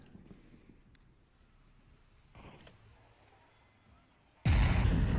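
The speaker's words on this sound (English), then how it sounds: "As he detonates it for that far north push" A C4 charge detonates in the Onward VR video game. A loud, sudden blast erupts near the end after quieter ambient shuffling and creaks, and its roar sustains to the close.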